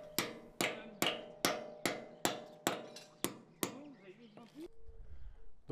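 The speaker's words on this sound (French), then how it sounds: "vous les mettez en place en frappant dessus avec un marteau" A hammer drives concrete anchor bolts into pre-drilled holes in concrete, ten sharp, evenly spaced metallic strikes in quick succession, close and crisp, followed by a brief scrape and quiet.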